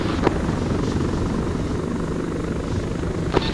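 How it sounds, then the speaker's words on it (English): Chinook helicopter flying in the video game Arma 3, a steady broadband rotor and engine roar held at even loudness throughout, with a couple of brief sharper transients near the start and end. "Got 1 Chinook ready to go."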